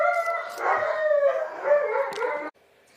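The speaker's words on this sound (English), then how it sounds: "Those dogs did not stop anytime soon" Dogs howl and bark together nearby during apartment renovation, a sustained wavering howl with yips breaking through, running for a few seconds before cutting off abruptly.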